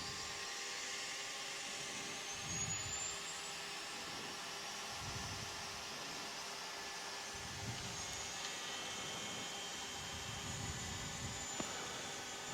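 Cessna Citation II jet engines spool up for takeoff inside the cockpit, a steady broadband roar and whine holding throughout with low rumbling pulses underneath.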